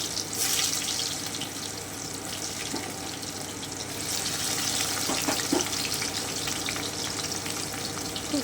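Pieces of foot yam fry in hot oil for a vegetarian dish, giving a steady, close sizzle that rises and falls slightly, with occasional faint clinks in the pan.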